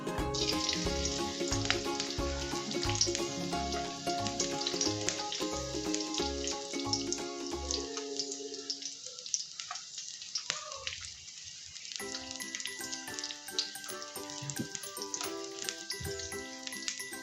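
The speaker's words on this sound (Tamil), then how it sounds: "அதை அடுப்பில் எண்ணெய் சூடாக இருக்கு. அதில் முதலாவது வெங்காயத்தை ஆட் பண்ணுவோம்." Square-cut onions go into hot oil and fry with a loud, continuous sizzle and crackle, joined by a rhythmic scraping or stirring pulse in the first half, with no talking.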